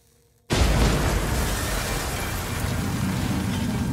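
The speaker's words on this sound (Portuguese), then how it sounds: "Uma explosão ecoa pelo complexo." A bomb bursts inside a meeting room of a military complex with a sudden loud boom, then a long rumbling roar that echoes and sustains without fading.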